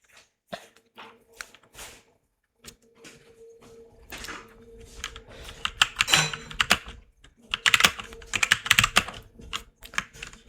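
Close computer keyboard typing while entering text into a PowerPoint text box, heard as irregular clusters of clicky keystrokes that grow busier, with a cough and throat clearing in between.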